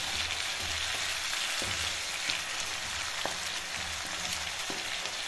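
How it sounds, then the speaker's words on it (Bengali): Duck curry masala fries in a pan with a soft continuous sizzle, broken by occasional scrapes and taps of a spoon stirring it, close and fairly quiet with no voices. "এবার আবারও একটু নাড়াচাড়া।"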